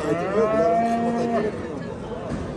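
A cow lets out one long, drawn-out moo nearby, over the noisy crowded background of a livestock market in Osh.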